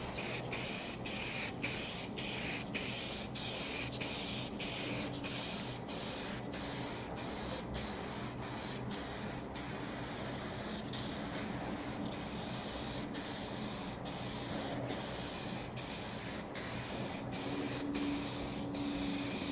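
A spray can lays on clear coat in a steady hiss broken by evenly spaced short pauses between passes, close and constant, with no voices.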